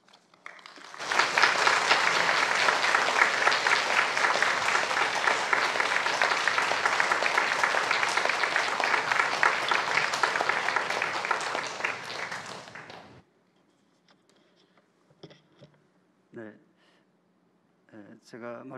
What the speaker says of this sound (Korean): 큰 박수로 환영하도록 하겠습니다